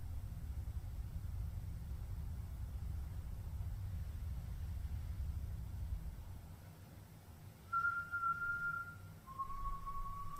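Two short whistled tones sound in a video game, a brief steady note followed by a slightly lower one, faint and clear over a low engine-like rumble that fades away beforehand.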